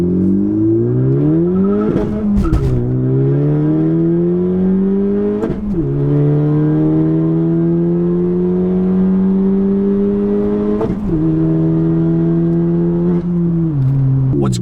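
A car with a short shifter accelerates hard in first gear, its engine note climbing steeply in several loud revving pulls, each broken by a sharp drop and brief crackle between them.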